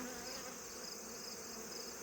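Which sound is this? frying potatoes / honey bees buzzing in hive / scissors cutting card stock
honey bees buzzing in hive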